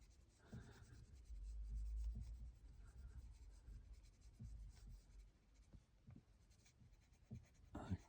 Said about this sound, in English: let's push down the pencil quite a bit here.